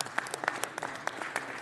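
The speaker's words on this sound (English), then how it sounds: "Let's give him a round of applause." Applause from the audience at a city council meeting, a steady wash of many hands clapping at moderate volume with scattered sharper claps, no talking over it.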